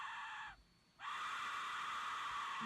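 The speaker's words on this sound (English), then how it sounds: "It actually sounds like somebody screaming that's coming from the skull." An Aztec-style skull whistle blows a harsh, shrill, scream-like shriek, broken by a brief gap, then sustained and loud again.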